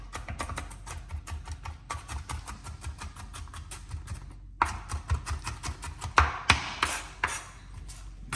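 A knife chops jalapeños on a cutting board in steady, rapid strokes, close and crisp, with brief pauses between runs of cuts and no talk.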